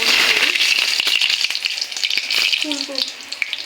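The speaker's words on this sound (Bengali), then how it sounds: "এবার আমি ফুলগুলো নিয়ে এইভাবে বেসনের মধ্যে ডুবিয়ে সুন্দর করে ডুবিয়ে চুলায় দিব আমরা" Pumpkin flower fritters dipped in gram-flour batter sizzle and crackle steadily in hot oil on the stove, a close, continuous fry with a few pops.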